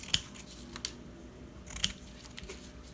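Scissors cutting strips of paper for a junk journal, with three or four sharp, crisp snips spread over a few seconds against a quiet background.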